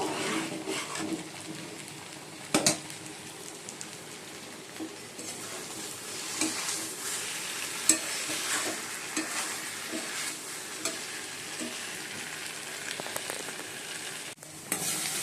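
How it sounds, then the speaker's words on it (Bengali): Paneer masala is sautéed in a pan at home, a soft, fairly quiet sizzle running throughout, broken by scattered clinks and scrapes of a spoon stirring against the pan. "পনির মশলাটা কষিয়ে নিচ্ছি।"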